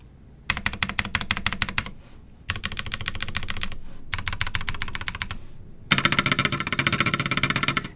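Typing on a Snake60 keyboard with an O-ring mount, FR4 plate, Tecsee Coral switches and QX Carbon Cloud keycaps: fast, close bursts of clacky keystrokes in three runs split by short pauses, and the last run is louder and denser.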